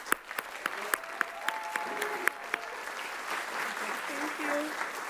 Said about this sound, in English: can we just give another round of applause for all of these bad, dope women on the stage right now?